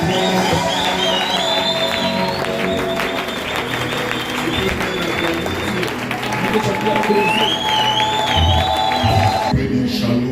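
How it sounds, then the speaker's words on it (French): A church congregation at a Sunday service claps and cheers in acclamation, loud sustained applause and shouts mixed with crowd babble, with whistle-like cries rising above the noise at moments. "Est-ce que tu peux bien acclamer Dieu?"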